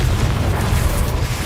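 A short, loud, continuous booming rumble of a Confringo fire-blast explosion in Hogwarts Legacy, up close with no pause.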